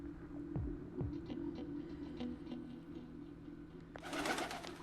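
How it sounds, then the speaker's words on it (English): In the video game Persona 4 Golden, a bird coos softly over a steady low hum. A burst of hissy noise rises near the end. "Bird."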